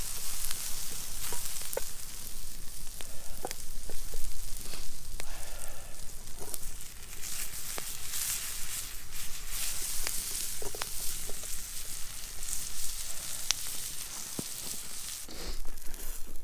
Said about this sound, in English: what I want to at least do is brown that meat on all sides